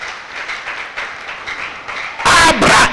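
A church congregation bursts into loud applause and cheering for the Lord, following a stretch of murmuring voices in the hall.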